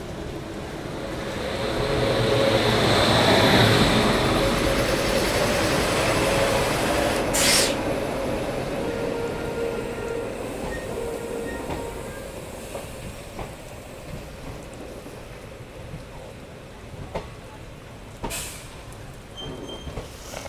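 Vasco Da Gama–Hyderabad Weekly Express (17022), a slip train, pulls out of Hubli station past its long platform, a broad rumbling roll that swells early then eases into a steadier hum, with occasional hisses and sharp clanks.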